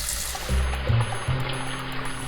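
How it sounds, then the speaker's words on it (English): Water pours into a little pan to be set boiling for walnut sauce, a close, steady filling splash with small shifts in pitch as the pan fills. "put a little pan with some water to boil"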